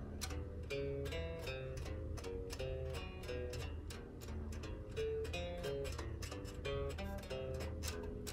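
Bass guitar exercise played in finger groups of three, a steady run of plucked notes with a continuous deep low end and regular attacks, played alone without talk.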